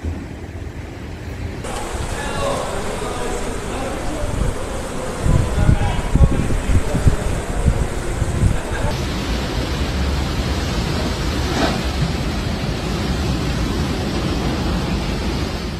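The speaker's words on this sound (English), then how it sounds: "such strong gusts of wind and such high wave had never been seen before in recent decades" Strong coastal storm wind roaring into a microphone with a broad rumbling surge like heavy surf from high waves, loud and continuous, with louder buffeting gusts in the middle, on the Italian coast.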